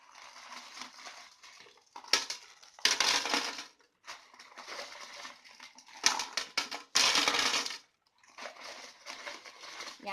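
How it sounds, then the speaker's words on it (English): Heavy rocks are dumped by the handful into a small glass nano shrimp aquarium, giving bursts of sharp crunching clatter separated by short pauses, close and fairly loud, with no voices. "First, let's go ahead and dump in some rocks."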